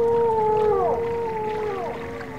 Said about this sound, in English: Thing sounds like an elephant.